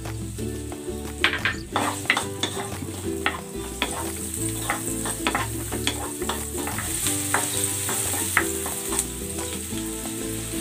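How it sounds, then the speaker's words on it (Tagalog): Onion sizzles and fries in hot oil in a pan, with a spatula stirring and scraping steadily throughout. Music plays softly underneath. "Daga ko ng konting oil. Gigisa ko na tong sibuyas."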